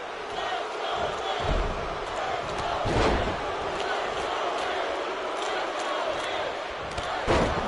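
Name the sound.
crowd chanting "Let's Go Miz", from video game WWE 2K20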